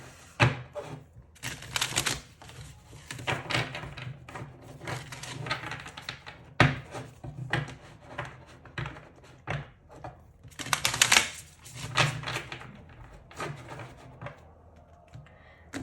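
A deck of cards is shuffled nearby in repeated quick, clattering bursts, uneven in rhythm, with quieter pauses between.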